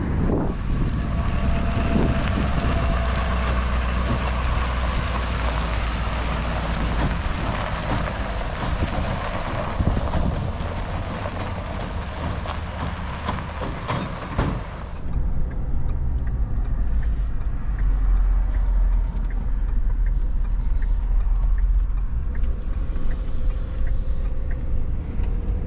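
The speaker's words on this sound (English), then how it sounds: "We caught a little dirt truck in action." A dirt truck drives past close by, its engine roar loud and steady for about fifteen seconds before fading into lighter traffic and wind noise.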